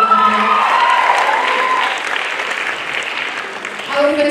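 Sustained applause from the audience at a junior high school play in Nairobi, with a voice audible at the start and again near the end over the steady clapping.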